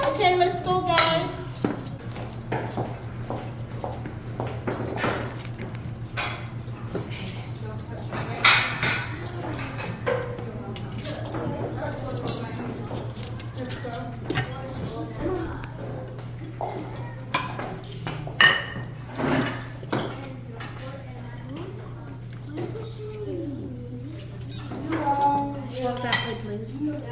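Dishes and cutlery clink and clatter repeatedly as a family sets a table at home, with scattered sharp knocks of plates and utensils against the surface, while people talk intermittently throughout.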